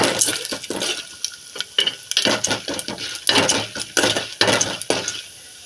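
Chana dal and cumin seeds stirred in a hot pan while making a cucumber peel chutney, a steady run of metallic scrapes, clinks and rattles from the spoon against the pan, close and fairly loud with short pauses.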